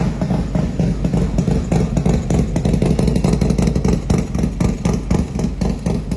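A Harley-Davidson Trail Glide with a 139 engine build rumbles and revs in rhythmic throttle blips, loud and close, with a deep chugging V-twin idle and rapid rising pulses.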